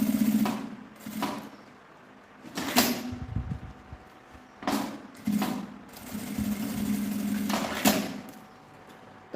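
Sewing machine stitching a seam across a folded edge while making a small zippered case, running in several short bursts separated by brief pauses, at moderate level.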